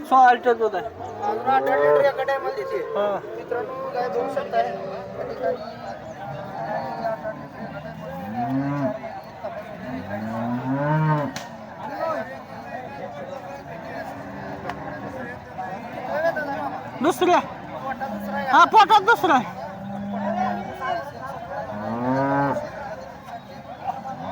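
Cows moo repeatedly in long, drawn-out calls, close and loud, with people chattering in the background throughout, at the Sangola livestock market.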